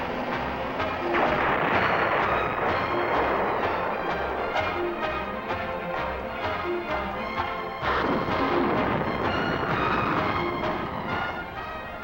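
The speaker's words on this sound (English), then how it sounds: "the standard anti-radiation missile is launched to seek its target" Navy Standard anti-radiation missile launching from a test range, a sustained loud rocket roar with crackling bursts throughout, briefly dipping before surging again.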